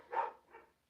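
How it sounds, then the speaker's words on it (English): Dogs in the background give two short, muffled barks, the first louder than the second, faint and distant in otherwise quiet surroundings. "Please excuse my dogs in the background."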